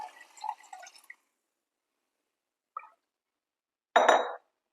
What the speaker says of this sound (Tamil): நம்ம சூடு பண்ணி வச்சிருக்கிற அளந்த தண்ணியை இதில் சேர்த்துக்க போகிறேன்